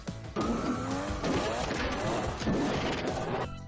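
Tires shriek as a car drifts out of control, mixed with engine roar and heavy crashing impacts, loud and continuous for several seconds.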